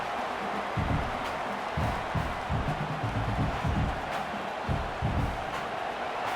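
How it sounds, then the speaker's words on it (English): A packed stadium crowd roars in the College Football 26 video game during an Oklahoma Sooners versus Texas State Bobcats matchup, a dense, continuous wash of noise with low rumbling surges pulsing through it, and no talk over it. "Listen to this crowd just shaking the girders of this place, trying to help their defense"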